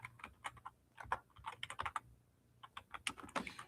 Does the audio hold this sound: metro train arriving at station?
no